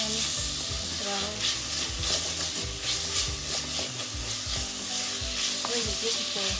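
Ginger and onions sizzle steadily in a hot pan, a close continuous frying hiss with occasional stirring scrapes, for a low-salt chicken vegetable soup.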